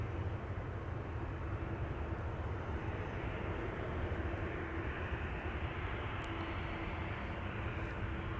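Jet airliner engines rumble steadily at Amsterdam Schiphol Airport, a broad continuous roar that holds level throughout with no speech.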